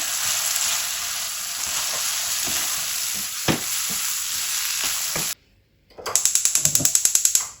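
Onion and capsicum sizzle steadily in oil in a pan, a loud continuous hiss with occasional stirring clatter, then a brief drop to quiet before a run of rapid rhythmic clicks.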